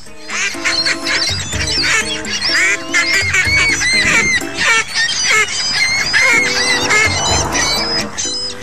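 A duck gives a loud, close run of harsh, rapid quacks that sound like laughter, in repeated bursts with brief pauses between them.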